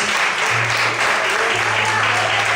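A church congregation applauds during a couples' talk, a steady, dense wash of clapping from many hands that fills the space continuously, with a low sustained tone running underneath.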